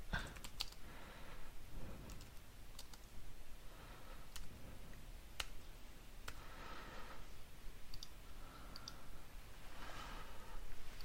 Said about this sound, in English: I'm going to type it in manually